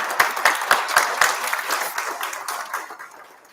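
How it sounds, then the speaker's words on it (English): Guests at an evening fundraiser applaud a performer, a room of clapping with a few sharp individual claps early, gradually fading out. "Let's give her a round of applause."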